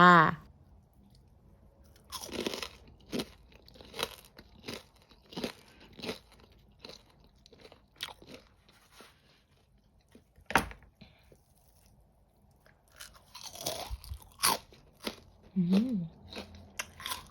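A crispy Thai fried crab-shaped snack, seasoned with fish sauce, is crunched and chewed close up in repeated sharp bites spaced through a quiet stretch, with brief speech near the end.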